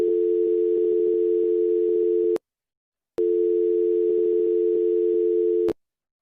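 A telephone ringing tone sounds in two long bursts separated by a short silence, a steady loud electronic tone on the line.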